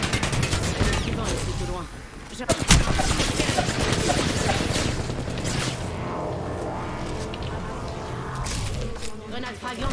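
Rapid bursts of automatic gunfire crackle through a video game shooter match, loud and dense, with several players talking over the shots.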